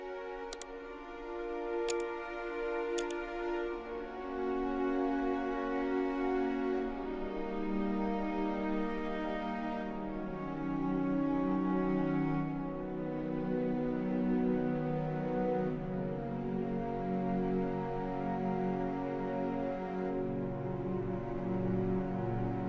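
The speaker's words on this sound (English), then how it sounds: "this Flortando ensemble patch from Chamber Strings from Spitfire Audio" A Spitfire Audio Chamber Strings ensemble patch plays softly in a Flortando style, with sustained, gently shifting string chords and slow swells forming a continuous quiet passage with no voices.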